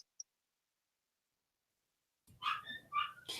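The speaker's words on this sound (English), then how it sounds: "the others are crying. If you hear any yelps, we're not killing a dog." Dogs whining and yelping indoors, a couple of thin, high cries coming near the end after near silence, faint and somewhat distant.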